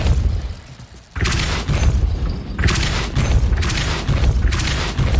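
Repulsor spell blasts in Hogwarts Legacy: after a quiet start, a sudden booming burst hits at about one second, followed by repeated heavy whooshing blasts and thuds with a loud, dense rumble.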